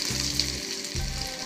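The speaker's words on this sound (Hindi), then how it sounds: "अब इसको अच्छे से फ्राई कर तेल गरम हो गया।" Chicken bread rolls deep frying in hot oil give a steady, close bubbling sizzle that runs through the short stretch with no voices.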